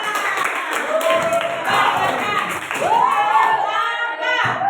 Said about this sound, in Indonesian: Kasih tepuk tangan untuk kelompok kobra.